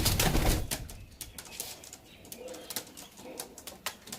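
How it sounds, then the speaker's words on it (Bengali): Pigeon wings flap in a loft of Lalpari teddy and large chini kaldum pigeons, a loud burst of flapping at the start followed by softer, scattered wingbeats and rustling. "আলিওয়ালা পায়রা"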